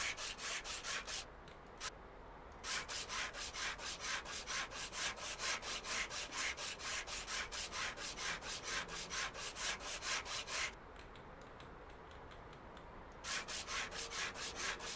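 Rapid rhythmic hand sanding of a rusty plastic car bumper in Car Dealer Simulator, with quick regular scraping strokes that stop briefly twice before resuming, crisp and close with no talk.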